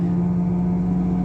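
A faulty front wheel hub bearing on a car on the road gives off a steady, low droning hum. It is heard from inside the cabin, continuous and even over road noise, with no one talking.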